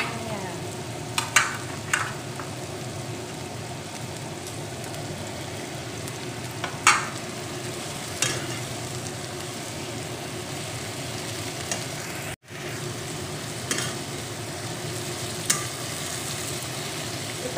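Tempeh and long beans stir-frying in a pan, a steady close sizzle with occasional scrapes and clinks from stirring.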